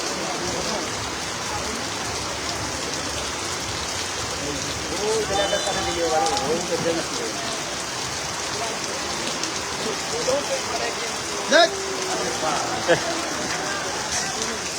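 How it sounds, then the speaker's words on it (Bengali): Heavy rain pours steadily over a football stadium in Gazipur during a match, a constant broadband wash throughout with a few brief sharper knocks, while voices talk underneath. "জোর ধারায় বৃষ্টি ধরছে এখন"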